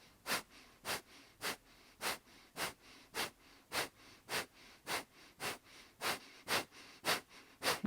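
Rapid Kundalini yoga breath of fire, about twenty sharp rhythmic nasal exhalations at an even quick pace, close and fairly quiet.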